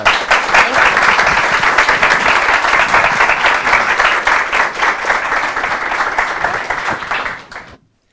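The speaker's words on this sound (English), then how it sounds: "Give them a round of applause." Audience applause for three freshman student presenters at a workforce pitch competition: dense, steady clapping from a crowd lasting about seven seconds at full strength, then quickly fading out.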